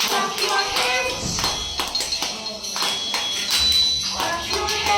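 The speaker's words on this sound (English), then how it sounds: "Clap your hands with me." Children clap their hands together in a classroom, a run of quick, uneven claps layered with a busy, lively room sound and some voices mixed in.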